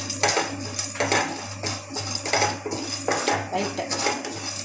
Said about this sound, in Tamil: இது நல்லா ட்ரை ரோஸ்ட் பண்ணிக்கோங்க இந்த மாதிரி.